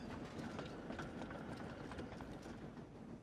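A steam engine in the Trainz video game chuffs along steadily with a dense, continuous rhythmic rumble and clatter, close and loud throughout.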